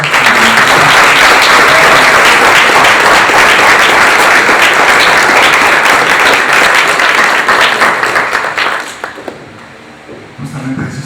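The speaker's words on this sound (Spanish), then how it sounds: "Hemos terminado las exposiciones, les pido un fuerte aplauso." A student audience gives loud, sustained applause after a debate on gender parity, a dense wash of clapping that fades out near the end.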